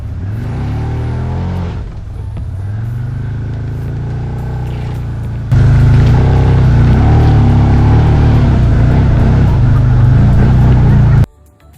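An off-road motorbike crosses a stream on Kirirom mountain in the rainy season, its engine droning steadily, then surging much louder midway and cutting off abruptly near the end.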